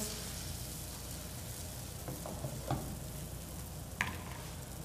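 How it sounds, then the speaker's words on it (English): Scrambled eggs cooking in hot butter in a saute pan, a soft continuous sizzle with a few faint utensil clicks, fairly quiet and close. "Throw some butter in a nice saute pan. Once that gets nice and hot, go ahead and swirl your eggs in."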